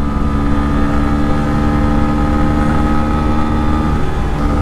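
A Bajaj Pulsar N125 motorcycle with a 125 cc engine runs steadily while being ridden, its loud, even engine drone held close and constant with no talk over it.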